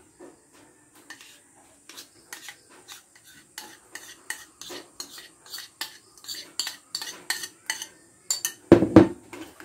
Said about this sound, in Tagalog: Haluin na natin para mag-combine lahat ng mga ricado ating nilagay.